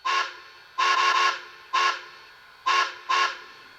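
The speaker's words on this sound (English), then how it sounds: "And then 3 short whistle." Whistle of a Bachmann PRR K4 4-6-2 model steam locomotive, a pre-war slat pilot version, giving separate short, clear tooting blasts in an even rhythm, loud and close with no other sound.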